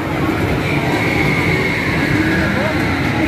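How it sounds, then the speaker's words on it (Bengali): An amusement park ride train at a food and leisure park rumbles past close by with a loud, continuous rolling roar and a faint high wheel squeal, with voices mixed in. "ট্রেন চলে যাচ্ছে, এই যে দেখতে পাচ্ছেন ট্রেন গেল"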